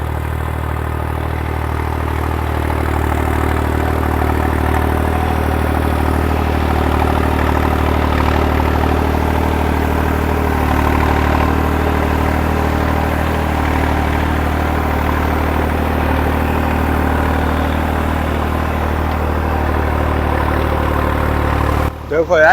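A New Holland 3630 tractor engine runs steadily for the whole stretch, a loud, even low-pitched diesel drone with strong harmonic hum, and voices talk over it throughout.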